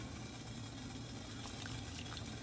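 Salted water bubbles at a rolling boil, a soft continuous hiss and burble, faint and steady with no voices.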